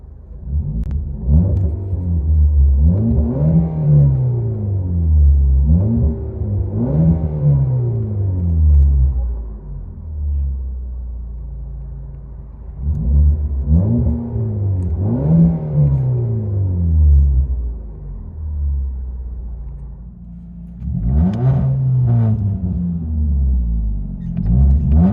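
A Ford Fusion 2.5L with its muffler deleted revs repeatedly, heard from inside the car, with loud deep rumbling swells rising and falling in several bursts and a brief quieter gap between them.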